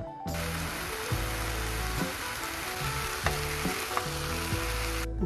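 Ingredients for Kilis tava sizzle briskly in a pan after a little milk is poured in, a close, steady crackle broken by a few soft clacks of stirring.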